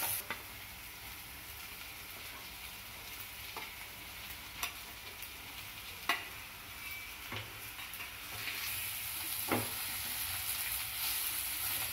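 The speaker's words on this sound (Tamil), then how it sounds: "இதே மாதிரி நல்லா திருப்பி விட்டுக்கலாம் முட்டையை" Fried eggs turned through a sizzling onion-tomato masala in a pan for egg pepper fry, a steady close frying hiss with soft scraping stirs and occasional sharper clinks of the spoon against the pan, no talk.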